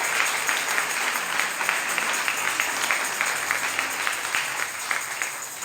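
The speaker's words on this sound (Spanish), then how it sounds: "démosle un aplauso a nuestro Dios" A church congregation applauds during a Tuesday service sermon on mercy, a steady wash of many hands clapping together, fairly loud and unbroken throughout.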